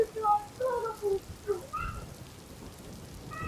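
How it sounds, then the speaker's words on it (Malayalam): A steady downpour of heavy rain in Bangalore hisses in the background while a person talks in short bursts over it. "ഗൈസ് ഇവിടെ നല്ല മഴയാണ് ഗൈസ് നോക്കൂ"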